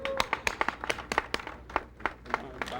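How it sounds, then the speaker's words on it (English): A small group claps for a satellite launch team, a few close, distinct, irregular hand claps rather than a full crowd roar, brief and moderately loud. "let's give them a big round of applause"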